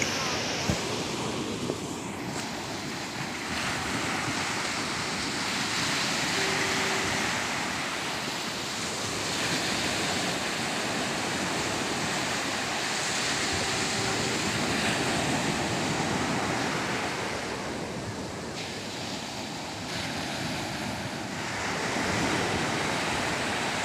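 Strong wind and crashing waves on Nagapattinam beach at night, a steady broadband roar of surf and gusting air buffeting the microphone, continuous and loud throughout with no clear voices.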